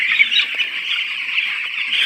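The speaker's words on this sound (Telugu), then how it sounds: "ఈ కోడి పిల్లలు మొత్తం, ఈ కనిపించే కోడి పిల్లలు మొత్తం కూడా 1050 కోడి పిల్లలు." About a thousand twelve-day-old chicks on a poultry farm, a dense continuous chorus of high peeping from the flock, close and steady, with no talking.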